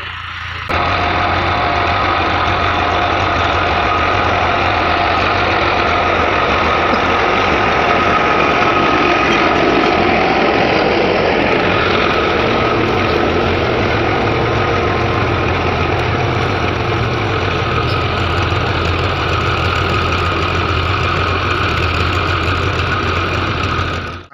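A steady, loud tractor engine runs throughout, with a constant low rumble and a droning mechanical hum that never pauses.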